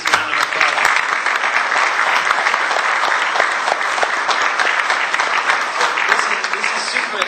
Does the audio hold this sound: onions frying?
no